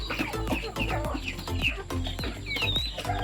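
Free-range chickens cluck repeatedly in a small, muddy coop after rain, a close, busy overlapping chorus of short calls without any talk.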